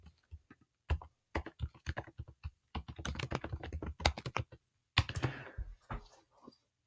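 Quick bursts of keystrokes on a computer keyboard type out a search, with crisp clicking runs separated by short pauses, close and fairly quiet.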